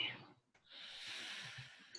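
A slow, deep inhale followed by a long, soft exhale during a guided breathing exercise, close and quiet with a brief pause between the two breaths.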